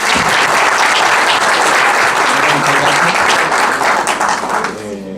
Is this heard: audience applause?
yes